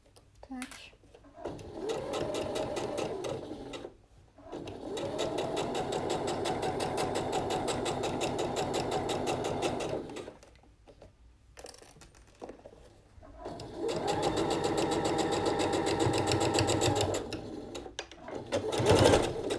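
A sewing machine stitches satin bias binding onto a blouse in long steady runs of fast rhythmic needle hammering, stopping and restarting between bursts, with someone talking quietly underneath.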